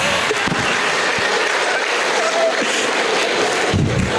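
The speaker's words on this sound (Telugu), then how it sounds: "బోర్ కొట్టే వాళ్ళు ఒకసారి జోరు క్లాప్స్ కొట్టవచ్చు." An audience at a bootcamp training session claps, a fairly loud patter of many hands with scattered sharper claps, lasting a few seconds.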